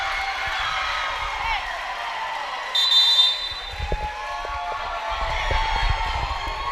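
Crowd at a college volleyball senior day match cheering and whooping in a gym, a steady mid-level roar with a brief electronic buzzer-like tone and scattered claps and shouts rising near the end.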